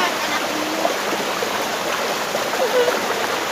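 Clear water in a village stream rushes past in a steady, close, continuous wash with no break across the whole stretch.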